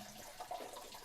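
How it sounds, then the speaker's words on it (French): Tap water runs steadily from a faucet as someone washes their hands, a continuous close splashing hiss for about a second with no voices over it. "Je me lave les mains, je me lave pas les mains."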